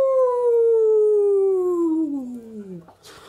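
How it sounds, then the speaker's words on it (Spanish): During a read-aloud of a monster story, a single long howl slides slowly downward in pitch, loud and close, fading before a brief rustle at the end. "Estuvieron toda la noche bailando y aullando."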